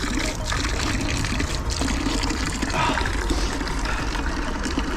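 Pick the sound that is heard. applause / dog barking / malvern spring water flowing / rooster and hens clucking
malvern spring water flowing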